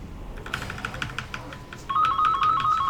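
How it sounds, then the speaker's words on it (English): A house phone rings with an electronic warbling tone that starts partway through and repeats in a steady pattern, heard over faint keyboard tapping and clicks during a computer game session. "It's a house phone, not my actual cell phone."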